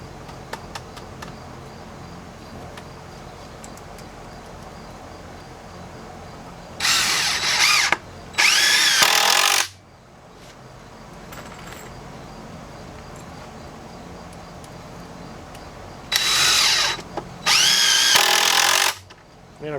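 A power drill drives screws into old wooden greenhouse bench legs in four loud, whirring bursts, paired two at a time with a pause between pairs, over a low steady background hum.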